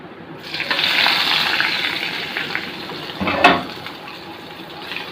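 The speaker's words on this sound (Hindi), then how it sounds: "अब हम इसके ऊपर तड़का लगा देते हैं इसका।" Hot tadka tempering poured over pumpkin raita, a close, hissing sizzle that swells briefly and then settles into a softer crackle, with a sharp spike partway through.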